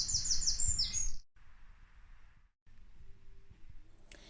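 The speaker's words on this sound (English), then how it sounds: "the birds are singing" Spring birds sing in high, bright chirping trills at the start, clear and fairly near, then the song drops away to quieter background ambience with faint scattered chirps.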